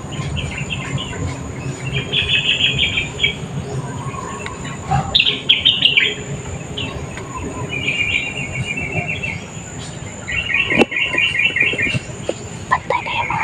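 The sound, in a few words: birds chirping outdoors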